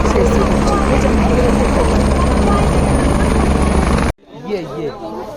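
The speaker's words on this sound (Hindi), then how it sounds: "यहाँ पर हेलीकॉप्टर की बुकिंग होती है और यहीं पर हेलीकॉप्टर ले जाते और लाते हैं।" Helicopter at a mountain helipad on the Kedarnath route, a loud steady rotor roar throughout with a voice over it, cutting off abruptly near the end, after which faint speech and background noise remain.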